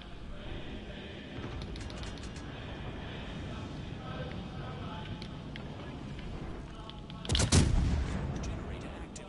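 Warship game naval gun firing at a battleship: steady engine and sea rumble, then one loud booming salvo near the end that rolls off, with talk in the background.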